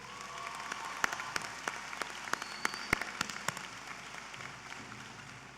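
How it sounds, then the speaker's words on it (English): Audience applause at a high school commencement ceremony, heard as a steady wash of many hands clapping with a few sharper individual claps, moderately distant and without talk. "Let's give them another round of applause, please."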